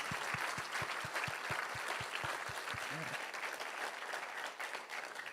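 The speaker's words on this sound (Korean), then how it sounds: "우리 버티컬 박수 한번 하십시다." A church congregation at an early-morning worship service applauds in a full, continuous wash, with a regular series of low thumps pulsing beneath it for the first few seconds.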